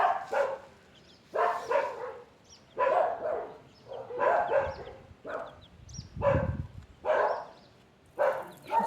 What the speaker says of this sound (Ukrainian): Собаки гавкають, хтось прийшов.